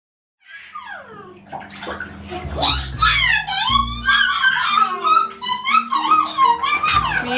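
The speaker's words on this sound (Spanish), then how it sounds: "que salpicas todo." Water splashes in a bathtub as a small child plays, with loud squeals and wailing cries over the choppy sloshing throughout.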